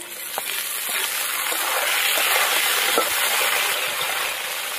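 Raw cut tomatoes hit a pan of frying onions and potatoes, setting off a loud, dense, even sizzle that holds steady throughout, with faint scraping and no speech.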